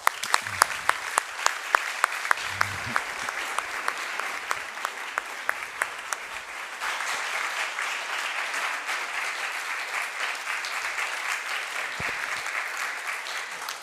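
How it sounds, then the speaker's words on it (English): Guests at the British Ambassador to Italy's residence applaud Lord Llewellyn; a few sharp separate claps open, then swell into steady, even room applause that carries on alone to the end. "So let's give Ed a round of applause."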